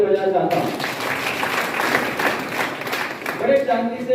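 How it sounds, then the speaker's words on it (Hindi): Seminar audience gives a loud, sustained round of applause, a dense wash of clapping that fills the room, with speech overlapping at the start and end. "मैं कामता साहू जी के लिए जोरदार ताली बजाना चाहता हूँ।"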